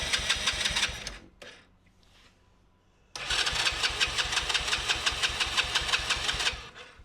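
A small engine running on choke sputters, dies briefly, then fires back up into a fast, loud, evenly pulsing idle that holds close and steady before dropping off at the end.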